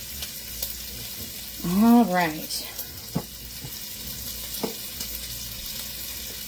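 Bacon fries and sizzles in a pan with a steady crackling hiss, while someone briefly speaks and small kitchen clicks and knocks sound nearby.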